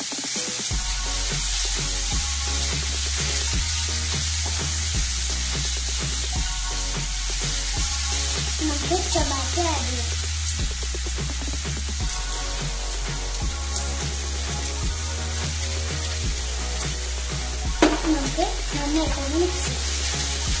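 Tomato, green chillies and curry leaves fry in a pan for a canned tuna masala, giving a steady sizzle and occasional stirring scrapes over a low, rhythmic musical backing throughout.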